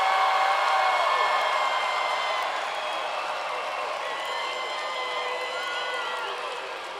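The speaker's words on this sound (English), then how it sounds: "Please give the graduating class of 2026 a rousing round of applause." An audience at a university summer commencement applauds and cheers for the graduating class, a dense, loud wash of clapping that slowly fades over seven seconds.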